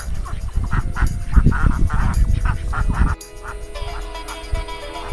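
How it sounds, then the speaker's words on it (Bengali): Flock of ducks on a park pond, a rapid burst of close, loud quacks and honks overlapping for about three seconds, then quieter background with a faint call. "কত হাঁস, ওরে বাবা ওরে বাবা"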